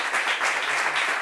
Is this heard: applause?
yes